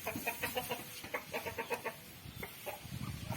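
Chickens clucking at a farm shed with goats and cattle nearby, a run of close, rhythmic clucks at first, then scattered softer clucks among faint rustling.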